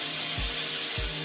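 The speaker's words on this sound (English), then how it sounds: "Now, occasional clink, clank, and hissing, that's normal." A pressure canner holding jars of roast beef lets out a steady, loud hiss of steam, broken by two dull low thumps.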